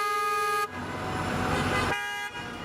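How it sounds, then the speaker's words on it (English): Car horns honk in busy New York City street traffic, a steady blare of overlapping toots from several vehicles with a louder burst in the middle, close and continuous over engine rumble. "And there's everybody honking."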